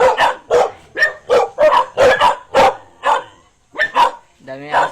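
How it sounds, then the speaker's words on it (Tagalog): Many dogs bark at a rural delivery stop, a loud, close run of about a dozen sharp barks in quick succession, with a brief pause before a few more barks and a whimpering yip. "Dami na aso dito mga kapal."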